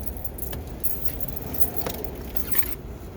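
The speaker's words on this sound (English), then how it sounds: "At this time, I'm getting my keys ready." A driver readies the keys for a Class A manual truck, and a bunch of keys jingles and clinks steadily up close over a low, constant rumble of background noise.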